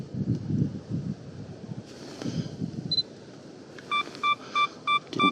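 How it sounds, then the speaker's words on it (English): A camera's 2-second self-timer beeps during a snowy black-and-white forest shoot: a single beep, then a quick run of evenly spaced beeps over steady wind noise, preceded by a soft shutter-like click. "And we want a 2-second timer."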